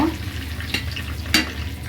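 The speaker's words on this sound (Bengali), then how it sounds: "এবার এই তেলের মাঝে আমি আস্ত গরম মশলা দিয়ে দিচ্ছি, তেজপাতা, দারচিনি, এলাচ" Whole bay leaf, cinnamon, cardamom and cloves frying in hot oil for a Bengali-style desi chicken roast, giving a steady close sizzle with two brief louder crackles and no talk.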